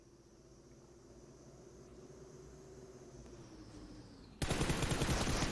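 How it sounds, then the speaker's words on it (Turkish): PUBG Mobile gunfire from a player shooting into the air: a steady engine-like drone, then an abrupt, loud burst of rapid shots that fills the last second. "Yine havaya sıktı."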